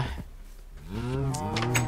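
Cows mooing on a cow farm in the video game Minecraft: a low, drawn-out moo rises and is joined by another, close and clear, with a short thump before them.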